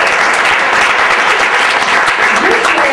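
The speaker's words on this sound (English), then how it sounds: "So let's all give another round of applause." An audience at a water product presentation breaks into dense, continuous applause that stays loud and even throughout, with no voice rising above it.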